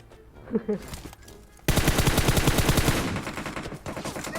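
Gunfire in the mobile game PUBG Mobile breaks out suddenly as a loud rapid automatic burst of close shots that goes on for about two seconds and then eases off, after a few brief exclamations from a player.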